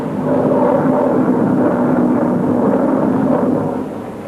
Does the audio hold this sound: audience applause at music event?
no